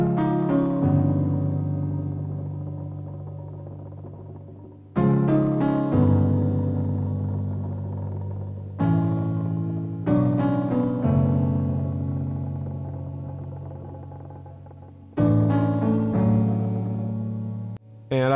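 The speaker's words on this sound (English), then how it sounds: "So I beefed it up with this synth piano" Synth MIDI piano plays four sustained chords, each struck hard and left to decay slowly, with a slight warble at the tail end of the phrase and no voices.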